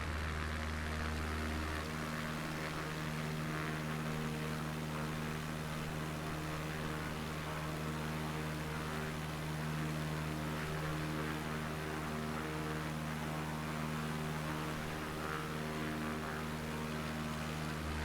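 Steady propeller-engine drone of an XCub bush plane with a 215 horsepower engine in Microsoft Flight Simulator 2020, a constant loud hum with a slight change in tone early on, otherwise unbroken.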